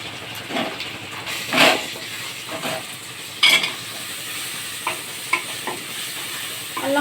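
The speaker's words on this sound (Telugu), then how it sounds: "అల్లం, పసుపు వేగిన తర్వాత టమాటా ముక్కలు అయితే వేసుకున్నాము" Ginger and turmeric frying in a pan give a steady soft sizzle, with a few sharper scrapes and stirring knocks rising above it now and then.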